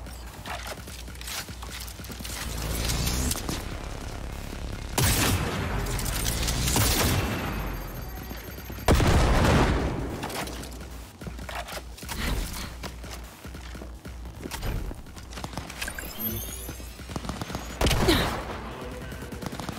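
Repeated explosions from mines in the video game Cyberpunk 2077, a series of loud booming blasts and crackling bursts rolling over a dense, noisy game soundscape.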